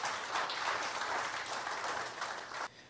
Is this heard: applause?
yes